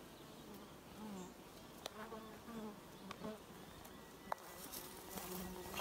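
Bees buzz around a hive built into a house wall, a continuous close droning hum with individual insects passing by and small clicks mixed in.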